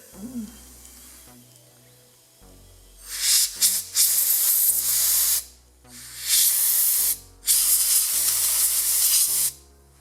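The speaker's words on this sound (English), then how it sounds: "You don't have to use compressed air, but I have it, so I'll use it." Compressed air blasts from a nozzle cleaning out a chainsaw during a repair, heard as three loud sustained hissing bursts of a couple of seconds each, separated by short pauses, with a faint low hum underneath.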